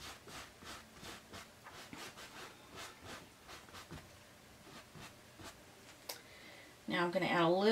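A paintbrush or cloth rubs paint into a canvas while an elephant is being painted, soft scrubbing strokes in a steady back-and-forth rhythm, close and quiet, ending with a louder rustle.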